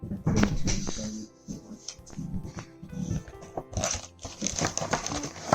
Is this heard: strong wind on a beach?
no